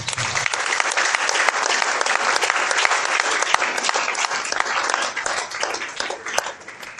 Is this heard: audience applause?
yes